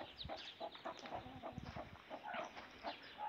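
A hen with her chicks on a farm that also keeps pigs and roosters, faint scattered clucks and soft peeping against quiet background rustle.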